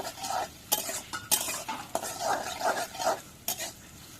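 Salted onions sizzle in a pan while a spoon or spatula stirs them in quick scraping strokes, with sharp metallic clinks against the pan throughout.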